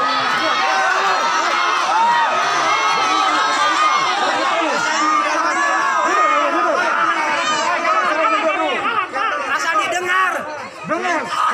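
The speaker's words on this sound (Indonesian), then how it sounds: "Kericuhan nyaris terjadi ketika warga masyarakat berteriak-teriak di depan gerbang pendopo yang digembok" Residents protesting at a padlocked pendopo gate in Garut shout and clamor together, a loud continuous crowd roar of overlapping voices and yelling that eases slightly near the end.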